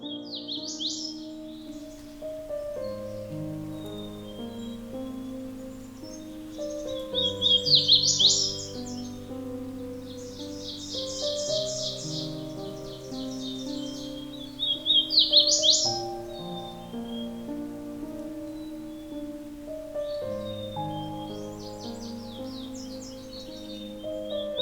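Wild songbirds in woodland give bright, bursting chirps and trills in repeated phrases, moderately distant, over a steady backdrop of soft melodic music.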